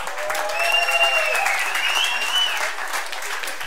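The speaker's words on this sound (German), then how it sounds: "Können wir einmal ganz kurz einen schönen Welcome-Applaus für Maya und Nicole." Audience applause welcoming two guests at a German stage show, a steady wash of clapping with some crowd noise, fairly loud and sustained, tapering slightly toward the end.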